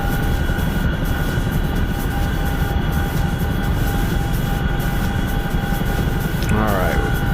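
Steady aircraft engine drone with a constant tonal hum fills a light plane's cabin on a short 20-to-25-mile hop, loud and unbroken, with cockpit voices talking over it.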